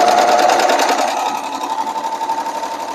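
A sewing machine runs steadily, stitching over an existing seam while altering a special occasion dress; its close, rhythmic mechanical whir fills the moment without any talk.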